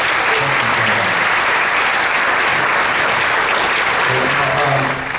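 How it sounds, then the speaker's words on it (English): A sixth-grade winter concert audience claps for the school band and percussion section, a loud, continuous round with a few faint voices in the crowd, thinning slightly at the end. "So round of applause for everybody"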